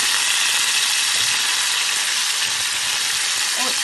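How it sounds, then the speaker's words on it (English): Steady, loud sizzling and hissing of garlic and ginger frying in a hot pan, continuous and close with no talking. "I'm just frying up some garlic and some ginger, and I'm going to be adding some soy sauce to that."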